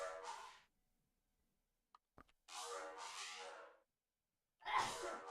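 A person sneezes close by, with breathy bursts of air drawn in and then forcefully expelled, separated by quiet gaps and a couple of faint clicks.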